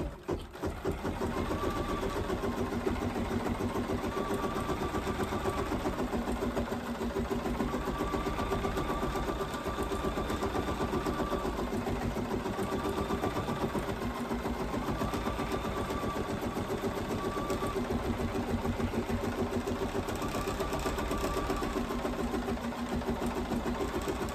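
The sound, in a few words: in-the-hoop embroidery machine stitching a placement line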